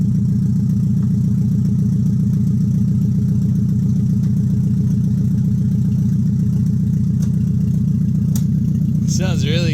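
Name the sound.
KA24DE engine running in Nissan 300ZX without exhaust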